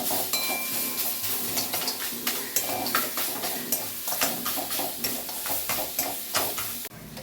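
Radish being stirred and fried with bori lentil dumplings in a pan for mulo chechki: steady sizzling under repeated clinks and scrapes of a utensil against the pan, close and fairly loud.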